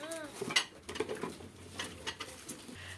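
A 20 cm Verda enamel pot is handled on a store shelf, producing a few sharp, close metallic clanks and knocks with soft rattling in between.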